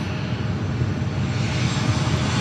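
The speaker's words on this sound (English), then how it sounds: "3203 coming in from Tampa, Florida on the 737-800" An American Airlines Boeing 737-800 arriving at LAX from Tampa, Florida, its engines a steady, loud, broadband roar sustained throughout with no voices.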